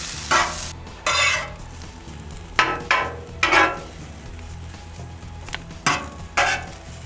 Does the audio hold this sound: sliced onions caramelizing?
yes